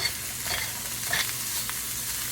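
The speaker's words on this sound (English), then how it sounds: "They are sizzling up nicely." Raw country ham sizzling steadily in a hot frying pan, a continuous crackling hiss with occasional louder pops, no voices.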